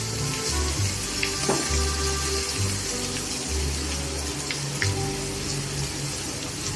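Oil sizzling in a pan at the start of cooking fried rice, a continuous crackling hiss with scattered pops, alone and steady at close range.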